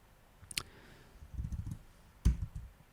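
Keys tapped on an unfamiliar computer keyboard during a drawing-software tutorial: a few quiet, scattered clicks and soft thuds with gaps between them, close and faint.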